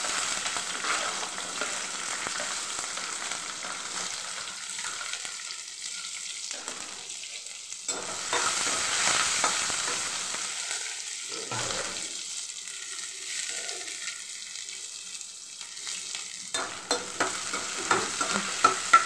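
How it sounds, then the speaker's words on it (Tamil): Onions sizzle and fry in hot oil with browned lentils in a pan for aval upma, a steady crackling hiss with intermittent stirring scrapes throughout, loud and close with no voices. "இப்போ வந்து இந்த வெங்காயங்களை போடலாம்."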